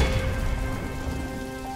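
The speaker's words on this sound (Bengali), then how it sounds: "ঝড়ে যে সব ভেঙে পড়ছে" Heavy rain pours in a cartoon storm, a dense, loud, continuous wash of drops drumming on surfaces with a low rumble underneath, steady for the short stretch.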